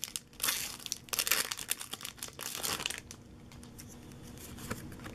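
A foil Pokemon booster pack, a Flashfire pack with Pyroar cover art, being torn open and handled, loud close crinkling and tearing bursts that ease into softer rustling with no talk.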